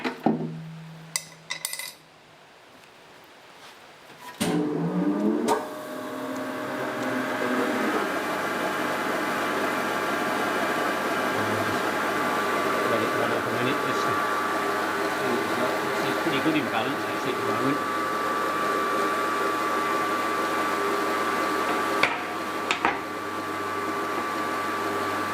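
A crankshaft grinder works a journal on the crankshaft of a Ransomes MG 600cc petrol engine. A few clinks and knocks come first, then the machine settles into a steady, close whirring hum that runs on without a break.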